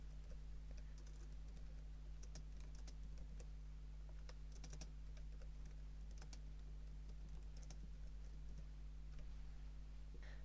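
Someone types steadily on a computer keyboard, composing an email, with irregular bursts of key clicks over a constant low electrical hum.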